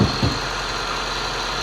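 A 2013 Honda CR-V EX-L's 2.4-liter engine with 95,000 miles idles steadily with a low, even drone. A couple of faint knocks sound at the start, and no one speaks.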